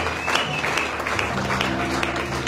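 Church congregation applauding during a French-language sermon, a steady wash of clapping from many hands filling the room, with voices mixed in underneath.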